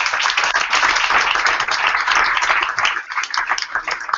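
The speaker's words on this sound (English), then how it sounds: "Can we all give them a huge round of applause" Loud, dense applause from a crowd at a hackathon event, steady clapping that fills the space and thins slightly near the end.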